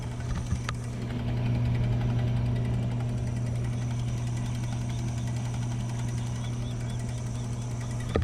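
An electric gin pole winch hums in a steady low drone with a fine mechanical chatter as it slowly raises a sailboat mast, constant and moderately quiet throughout.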